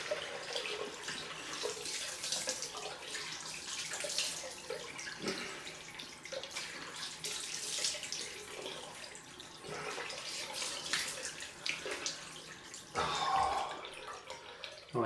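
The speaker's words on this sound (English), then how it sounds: "So, on with the cold rinse." Water runs steadily from a tap during a cold rinse after a shave, a soft continuous splashing stream with small fluctuations, fairly faint and without speech.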